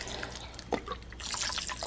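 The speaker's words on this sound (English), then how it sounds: "I'm going to add a healthy amount of vinegar." Rice vinegar is poured into a pot of ramen soup in a home kitchen, a short, soft liquid trickle and splash heard close with no voices.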